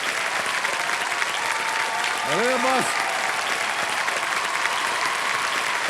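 Studio audience at a Kaun Banega Crorepati taping applauding steadily throughout, a dense wash of clapping with a host's voice briefly over it.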